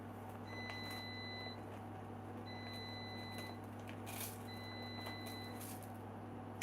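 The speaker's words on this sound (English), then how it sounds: "my kitchen right now sounds like a McDonald's. You know how there's like a million things beeping?" Several kitchen appliances beep at once in a home kitchen during meal prep, with three repeating bursts of thin high electronic tones over a steady low appliance hum, fairly faint and with no talking.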